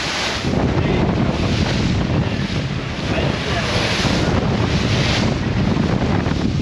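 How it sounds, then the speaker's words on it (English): Large ocean waves of about four feet and strong wind roar continuously around a small boat on a rough, cold ride in, loud and close with heavy wind buffeting on the microphone. "These waves have gotten pretty big, about 4 feet."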